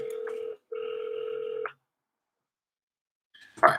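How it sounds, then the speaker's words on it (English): An outgoing telephone call rings twice in a steady electronic tone with a short gap between rings, then goes silent with no answer, followed by a brief clatter at the end. "Give it one more ring."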